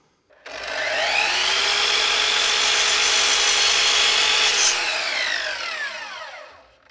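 Multiplex plywood being cut with a power saw: a single continuous, loud, close whining cut of about six seconds that starts abruptly, holds a steady pitch, then winds down as the blade slows.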